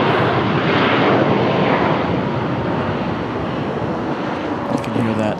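An Alaska Airlines airliner touches down on the runway, a loud, steady broadband jet roar filling the whole span with wind buffeting the microphone, while people talk faintly underneath.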